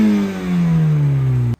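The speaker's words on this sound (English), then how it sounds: "you get your tri-tipped exhaust right there. So we'll put a sound clip of that so you guys can take a listen to it." Tri-tip exhaust of a 2023 Honda Civic Type R in a single loud, close rev, the engine note swelling and then falling away in a steady drone before cutting off abruptly, with no voices.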